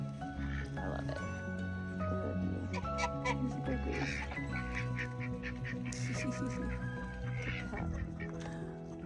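Chickens cluck and chatter in a coop on a cold morning, a busy layered mix of clucks and squawks running continuously throughout, fairly close and steady.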